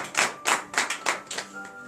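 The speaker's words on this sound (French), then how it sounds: "Et donnez de vous l'acclamation." A church congregation at a Beninese morning prayer service claps in a steady rhythm: about six sharp, close bursts with faint musical tones held underneath.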